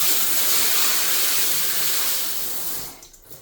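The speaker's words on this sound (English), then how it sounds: "The pressure on this shower head's crazy." Strong water from a high-pressure shower head pours in a loud, steady broadband rush that starts cutting off near the end.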